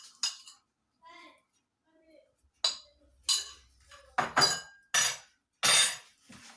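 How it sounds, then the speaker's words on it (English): Brown sugar, white sugar and butter are mixed in a bowl, giving repeated clinking and scraping strokes of a utensil against the dish, fairly close and in uneven bursts, with a voice briefly heard. "Now we mix the brown sugar, the white sugar, and the butter."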